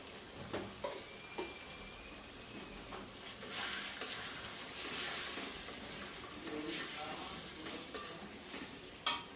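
Chicken frying in a pan with turmeric and coriander powder, stirred now and then; a steady close sizzle with scraping stir strokes and brief clinks, no talking.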